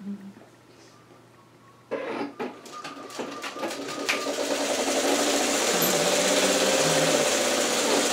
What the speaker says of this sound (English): You're just sewing these blocks, these subunits together with a really cute 1/4 inch seam.